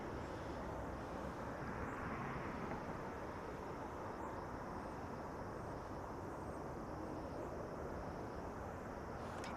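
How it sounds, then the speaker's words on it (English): A Lufthansa Boeing 747 takes off at Los Angeles airport, its steady broadband jet roar filling the whole stretch at an even, sustained level from a moderate distance. "That 747 Lufthansa taking off here in the north side"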